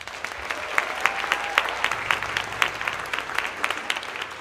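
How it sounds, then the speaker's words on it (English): An audience applauds a middle school summer band at a concert, sustained dense clapping from a crowd, steady and fairly loud throughout with scattered sharper claps standing out. "Give them one more round of applause."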